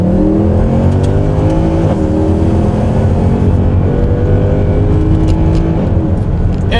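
A Mercedes C63 AMG 507 Edition pulls hard in second gear from around 30 mph, its engine note climbing steadily and loud in a continuous rising roar with no voices over it.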